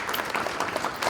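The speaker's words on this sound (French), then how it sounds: "Merci de vous applaudir" An audience at a financial inclusion training event in Burkina Faso claps steadily. The dense applause is heard at moderate distance and stays even for the whole brief moment, with no one speaking over it.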